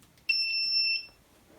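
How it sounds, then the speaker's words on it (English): A Makera Carvera Air desktop CNC machine gives a single steady electronic beep at switch-on, lasting under a second, clear and close against a quiet room. "Well, it made a beep."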